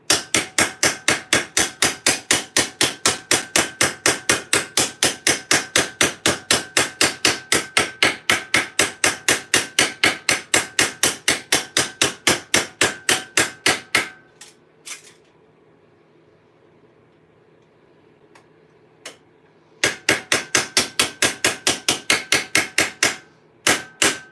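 Steel armor half gauntlets being riveted: a long run of rapid, evenly spaced metal hammer taps, close and loud, then a quiet gap with a few light clinks, then another quick burst of blows.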